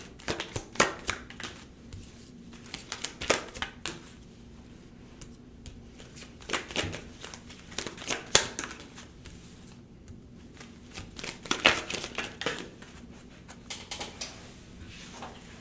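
Tarot cards are shuffled in irregular bursts of crisp riffling and flicking, near and moderately loud, with quiet pauses between runs and no talking.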